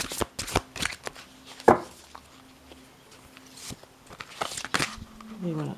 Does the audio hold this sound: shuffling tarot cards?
yes